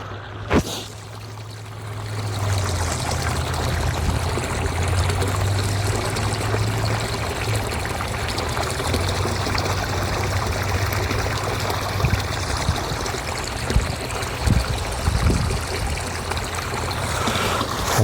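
Water pouring and trickling steadily into a koi pond, a continuous nearby splashing flow with a low gurgle, a few brief knocks and handling sounds along the way.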